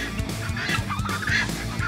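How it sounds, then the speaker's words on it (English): A goose honks repeatedly and loudly at close range at a muddy pond where birds are being fed, with steady outdoor background noise and no talking. "Here comes a goose."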